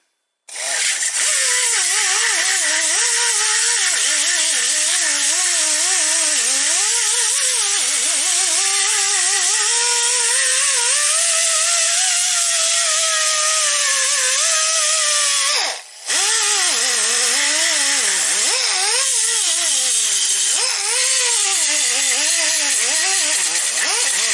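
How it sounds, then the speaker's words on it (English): A die grinder grinds painted metal in a loud, continuous high-pitched whine lasting over twenty seconds, its pitch wavering as the tool loads and eases off, with one brief dip near the middle. "So I just use a die grinder."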